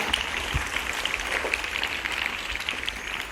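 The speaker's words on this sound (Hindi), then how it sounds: "एक बार फिर से तालियों की गर्जना का अनुरोध करती हूँ" Audience applause at a school Hindi Diwas celebration, a steady patter of many hands clapping at a distance, fairly soft and continuous throughout.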